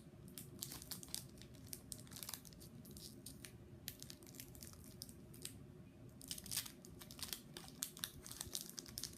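A Pokémon trading card pack wrapper is torn and crinkled open by hand without scissors, giving a steady run of close, busy crinkling and crackling plastic foil for the whole stretch, with no talking.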